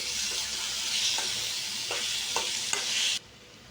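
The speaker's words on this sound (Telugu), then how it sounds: "మనం కట్ చేసి పెట్టుకున్న టొమాటో పీసెస్ యాడ్ చేసుకోండి ఆ తర్వాత కొద్దిగా సాల్ట్ వేసుకొని మిక్స్ చేసుకోండి" Chopped tomato pieces with a little salt frying in a pan for a vegetable chutney, with a steady sizzle and a few scraping stirs of a spoon, close and fairly quiet, ending abruptly.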